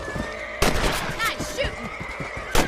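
Rifle shots in Red Dead Redemption ring out as two sharp, loud cracks about two seconds apart, with voices talking in between and background game sounds underneath.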